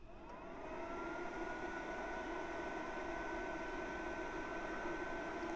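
A Vevor induction heater runs during a heating test, giving a steady, continuous electronic whine and hum that holds at an even level throughout, with a faint rising tone early on.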